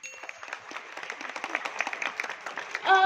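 Applause from a full-house audience at a YouTube creator event in Makassar, a soft, steady patter of many hands heard from a distance for a few seconds.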